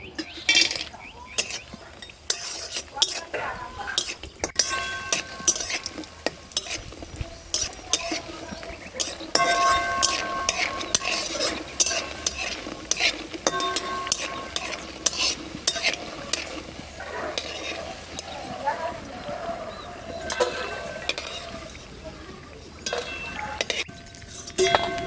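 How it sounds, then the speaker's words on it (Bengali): Bori lentil dumplings fry in hot oil in a Bengali kitchen, a soft sizzle running under frequent spoon stirring and metallic clinks of a pan. The taps and scrapes are close and irregular. "তেল গরম হয়ে গেছে, এবার এই বড়িগুলো ভেজে নেব।"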